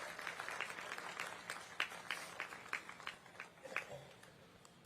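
Scattered applause from an audience welcoming a chief minister at a public event in Raipur, a thin uneven patter of claps that swells and fades with a few sharper hits, fairly distant.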